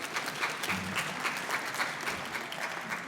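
Conference audience applause at an economy summit, steady, dense clapping from a seated crowd in a room, moderately loud and continuous throughout without talk.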